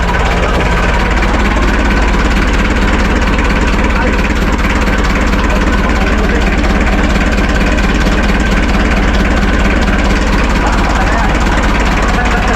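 A motorcycle engine, freshly cleaned, runs at a loud, close, steady idle with a rough continuous rumble throughout, voices talking over it.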